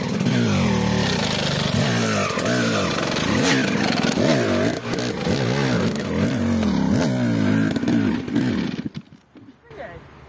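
A KTM EXC 300 TPI two-stroke enduro motorcycle revs hard and loud, with the engine note repeatedly rising and falling, then cuts off abruptly near the end.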